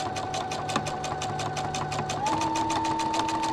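A sewing machine hums and taps in a rapid, even rhythm while double stitching a quilt-top seam, running steadily and close by without any talk.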